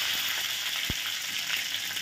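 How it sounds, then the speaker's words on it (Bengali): Mustard seeds and curry leaves crackle in desi ghee in a kadai as a bright, steady sizzle, with one distinct pop in the middle of the short burst; no voices. "এখন আমি সরষাটা ফোড়ন দিলাম, তারপরে আমি এই কড়ি পাতাগুলো দিয়ে দিয়েছি।"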